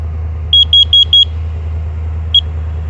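A carbon monoxide detector sounds its test alarm: four quick shrill beeps in a row, then a single beep after a pause, loud and close over a steady low background hum.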